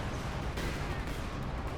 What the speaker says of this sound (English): We have artillery coming in.